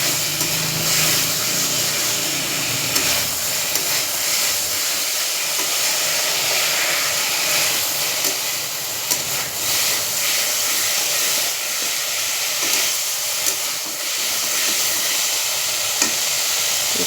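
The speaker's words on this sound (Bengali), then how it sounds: "এদিকে দিয়ে এখন একটু কষাবো যাতে সবজির গায়ে ভালোভাবে মশলাটা" Cauliflower and other vegetables sautéed with spices in a pan for a fish curry, giving a steady frying hiss and sizzle with occasional stirring scrapes throughout, no voices.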